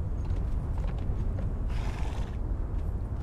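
Horse in the Conan Exiles video game, a brief whinny amid low rumbling ambience with soft hoof-like thuds, fairly quiet and without talk.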